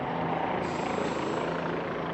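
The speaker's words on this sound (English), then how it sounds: "3 helicopters right there." Helicopters flying over Manhattan give a steady, loud rotor and engine drone that fills the whole stretch, with broad traffic and city noise mixed underneath and no break.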